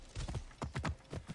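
A horse in Assassin's Creed Origins gallops in quick, clear hoof clip-clops, several beats in brief bursts, close and moderately quiet with no talking.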